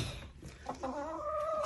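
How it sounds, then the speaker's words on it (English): Chickens in a backyard coop cluck briefly and then give a drawn-out, rising squawking call, close and moderately loud with no talking. "I gotta get the chickens out."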